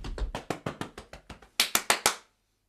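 A series of sharp hand claps in a steady rhythm, ending with four louder, brighter claps, then silence.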